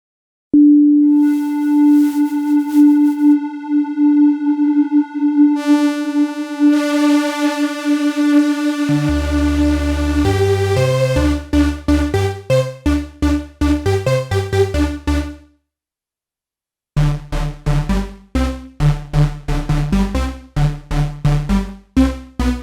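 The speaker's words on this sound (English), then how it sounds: "So this sets the amount of noise modulation of the detuned swarm oscillators." Elektron Digitone II synthesizer with detuned swarm oscillators under noise modulation: a sustained buzzy tone shifts into loud, rapid pulsing chords, briefly drops out, then returns in a dense, choppy rhythm, with no voices.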